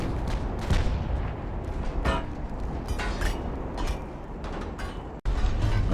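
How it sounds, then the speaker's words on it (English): Warship guns in Ultimate Admiral: Dreadnoughts naval battle, a run of heavy booming shots and crackling blasts over a continuous rumble, loud and repeated with irregular spacing and a brief drop near the end. "This guy's totally firing on his own ship."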